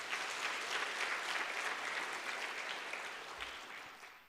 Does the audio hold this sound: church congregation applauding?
yes